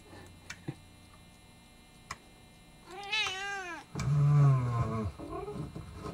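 A cat meows twice, a drawn-out wavering call followed by a louder, lower, longer meow, close and clear over faint ticking in a quiet room.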